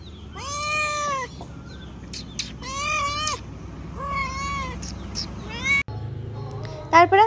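Cats meow over and over at close range, drawn-out tonal cries in several bursts with short pauses, over a steady low household background.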